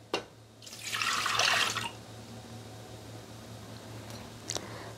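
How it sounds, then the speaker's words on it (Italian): Milk poured into a Thermomix (Bimby) TM6 bowl for brioche dough: a short, steady liquid rush lasting under two seconds, close and clear, after a single knock, over a low constant hum. "Iniziamo la ricetta mettendo all'interno del boccale il latte"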